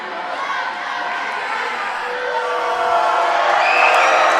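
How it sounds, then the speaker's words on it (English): A high school boys basketball crowd reacts as a player steps to the free throw line, a steady roar of voices and scattered whoops that swells slightly toward the end, with an announcer talking over it. "So Rogers to the free throw line, hearing it from the crowd."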